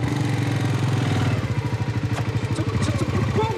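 A motorcycle engine revving on the throttle while the bike stays put, a pulsing mid-pitched drone with rhythmic throbs that rise and dip over a few seconds, close by.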